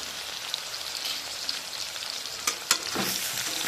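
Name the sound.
potatoes frying in oil on high flame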